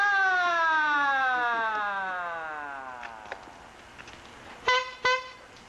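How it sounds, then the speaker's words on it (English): An electric automobile's siren is pushed down by hand. It wails in a long tone that slowly falls in pitch and fades. Two short, loud horn-like blasts follow near the end. "Just push down on the siren, Dick, and the right hand."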